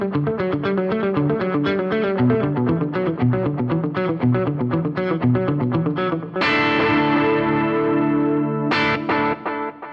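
An electric guitar played through a dotted eighth note delay with distortion and chorus, producing a rapid, rhythmic cascade of repeating notes, then sustained ringing chords with echoing repeats.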